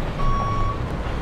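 A construction truck in Construction Simulator 2012 gives a single sustained reversing beep over a steady low engine drone, close and moderately loud.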